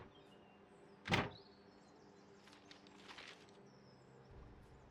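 A Class 86 coach's double doors open in Train Sim World 5: one sharp mechanical clunk and hiss, followed by faint softer rattles and a low rumble, quiet and close.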